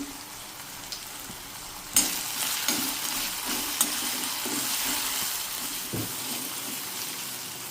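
Onion and tomato cooking with salt in a pan, a continuous close sizzle broken by several soft scraping stirs of a utensil.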